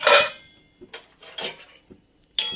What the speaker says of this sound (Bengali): ঢাকাটা খুলে দেখি সয়াবিনগুলো সিদ্ধ হলো কিনা।